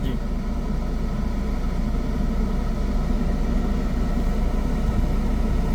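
A car engine idles with a steady low rumble and vibration while the clutch is slowly released on a hill, continuous and close, with a voice talking over it.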